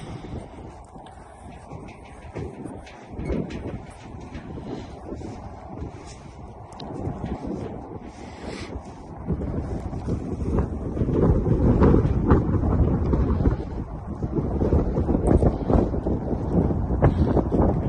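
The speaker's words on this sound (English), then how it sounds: "Pretty windy today." Strong, cold gusty wind at a ranch round pen buffets the microphone with a low, roaring rumble that swells louder toward the end, with no clear voices.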